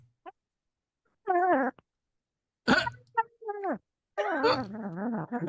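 A cat meows several times in short, wavering calls with quiet gaps between, close and clear, the last meows longer and drawn out.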